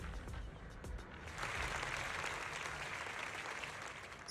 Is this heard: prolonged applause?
yes